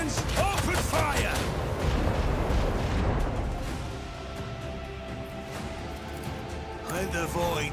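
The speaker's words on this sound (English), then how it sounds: "Macro cannons, open fire!" Macro cannons fire in the Warhammer 40,000 video game Rogue Trader, heavy booming artillery volleys under a voice, with the rumbling barrage continuing and easing toward the end.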